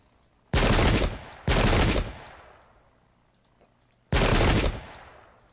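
Musket volleys in the Pike and Shot strategy game, German against Spanish troops, crash out three times as loud, sharp blasts, each trailing off into a fading rumble.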